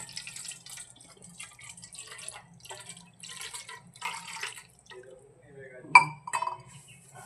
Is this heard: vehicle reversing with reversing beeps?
no